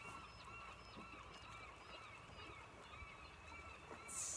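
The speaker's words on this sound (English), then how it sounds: "Seagulls cruising" Seagulls cruising over water near a shoreline give repeated honking, harmonic calls throughout, fairly distant, over a steady outdoor background with a faint voice.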